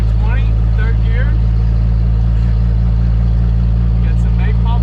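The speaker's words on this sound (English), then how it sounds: "Sound like we're driving in a tractor, but hey, we got some custom mufflers on here" Vehicle engine fitted with custom mufflers, running at about 20 in third gear, a loud steady low rumble like a tractor, with someone talking over it.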